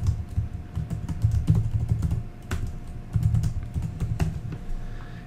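Typing on a Chromebook keyboard to enter a file name, a quick run of close, light key clicks with brief pauses between bursts.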